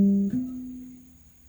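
Two short, muted low guitar notes, the second sustaining as a steady hum, played with the edge of the palm resting on the bridge saddle; close and moderately loud, with no voice.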